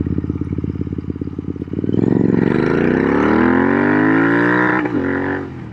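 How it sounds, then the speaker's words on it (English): A custom Royal Enfield Interceptor 650 fitted with S&S exhaust pipes idles with a loud rapid lope, then revs hard and holds at the rev limiter, the engine note climbing and bouncing before dropping off, close and with no talk. "Ah, that was a rev limiter again."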